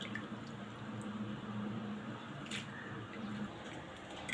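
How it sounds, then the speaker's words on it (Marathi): Grated potato is swirled gently by hand in a bowl of rinsing water, making faint soft sloshing and dripping sounds that run quietly throughout with little change. "किस फक्त हलक्या हाताने हलवायचा आता मी दुसऱ्या पाण्यात घालते"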